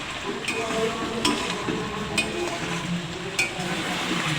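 Meat being sautéed in oil in a pan crackles in a continuous, fairly loud sizzle, broken by a few sharper scraping strokes as it is stirred at irregular intervals.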